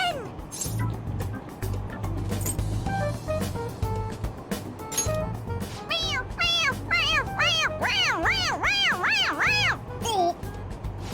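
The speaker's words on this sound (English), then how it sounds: "It meows when you press on its head." A toy cat gives a string of squeaky electronic meows as its head is pressed repeatedly, the cries coming faster and overlapping near the end, with voices talking and a low rumble from a moving train underneath.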